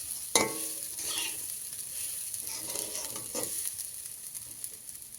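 Steady hiss of frying in a pan, a soft continuous sizzle with a sharp clatter near the start and faint stirring scrapes, close and moderately quiet, no voices.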